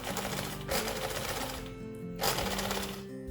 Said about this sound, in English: forward and back stitches just to lock it so it doesn't come undone